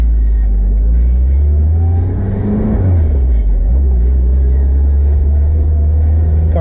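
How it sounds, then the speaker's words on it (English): A 1979 Fiat Spider with a 2-liter engine pulls away, its loud, close engine rumble rising and falling as it revs through a gear change, heard continuously from inside the car. "So we'll go for a little test drive."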